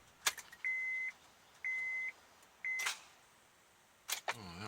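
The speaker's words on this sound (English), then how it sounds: "Tried to turn it over and got a click" A 2006 Honda Odyssey that won't start gives a sharp click as the ignition key is turned. Three steady electronic chime beeps come in between the click-like transients, all close and alone, with no talking.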